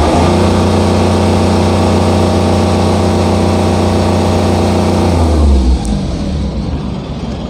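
Engine of an Ashok Leyland Dost pickup truck revving hard under the accelerator, a loud, steady mid-pitched roar held for about five seconds before dropping back toward idle.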